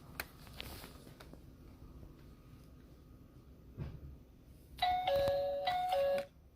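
A toy dollhouse doorbell plays a short electronic chime melody near the end, clear and close after quiet handling noises, with no talk.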